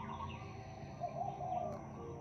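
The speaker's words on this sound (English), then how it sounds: "We got the birds chirping." Birds call outdoors by a tree, soft and somewhat distant, with a few thin chirps and coo-like notes over a quiet, steady background.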